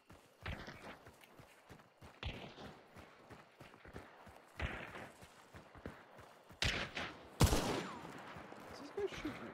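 Several sharp gunshots fire in Hunt Showdown, spread unevenly through the stretch with a couple of louder, nearer blasts late on, over quieter in-game ambience and faint movement.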